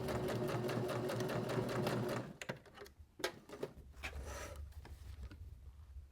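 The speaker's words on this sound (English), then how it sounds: "Now that we've stitched all the way around" A sewing machine runs steadily while stitching an eye pillow, a loud continuous whirring hum for about two seconds, then stops, leaving scattered soft clicks, handling noises and a low background hum.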